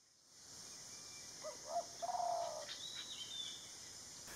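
Faint, scattered calls of a golden-fronted leafbird in a Thai garden: a few soft, brief chirps and short whistled notes over steady low background hiss, with no one talking.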